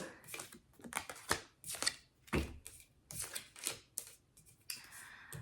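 Tarot cards rustle and snap in quick irregular bursts, riffled and shuffled close by, with soft taps between bursts and no talking.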